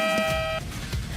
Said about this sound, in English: Now it's time for our off-court buzzer.